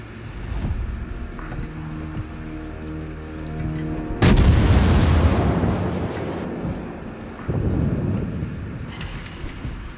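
Warship broadside artillery fire in World of Warships: a sudden loud booming salvo erupts partway through over a low rumbling game background, followed by a second heavy burst of gunfire shortly after, with no talking.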